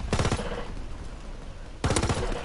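Automatic gunfire in a World War II shooter game, two quick close bursts of rapid shots at the start and end, with a dense noisy wash in between.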